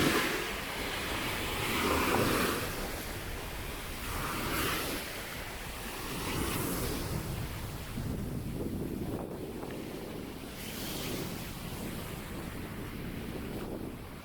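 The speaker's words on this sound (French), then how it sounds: "Peut-être vous entendez le vent dans les branches." Wind moves through pine forest branches in slow swelling gusts, a broad rushing roar with some buffeting on the microphone, rising and easing several times.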